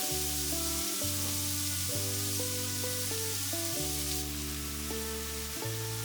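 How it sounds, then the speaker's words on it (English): Pork sizzles as it sears in very hot oil in a wok, a steady close hiss running throughout under loud background music. "When the oil is very hot, I add the meat and just spread it around and leave it for around 30 to 40 seconds to sear."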